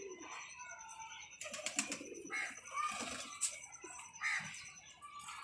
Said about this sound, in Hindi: अच्छे कबूतरों को आपको शौक़ भी करवाता हूँ।